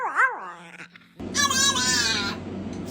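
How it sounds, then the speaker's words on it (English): A dog makes funny vocal noises: after a few seconds of wavering, sung whine-like tones, a louder, brighter burst of yowling and yipping follows, close to the microphone with no talk. "These dogs make some funny noises."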